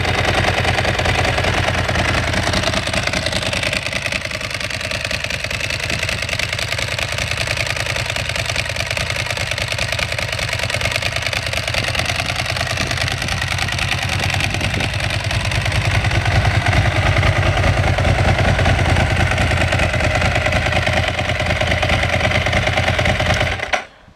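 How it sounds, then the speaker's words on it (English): A 2006 Ducati 749 motorcycle idles steadily at standard idle, its close, loud engine keeping an even rapid beat throughout before cutting off abruptly at the end. "Now turn that fast idle off, and we're back to standard idle."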